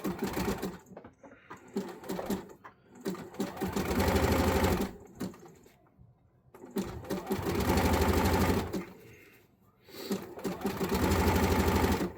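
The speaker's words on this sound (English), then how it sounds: "Top stitch our elastic down" A sewing machine top-stitches elastic onto a wrestling mask, running in several rapid, close mechanical bursts of needle chatter separated by short pauses, loud and alone.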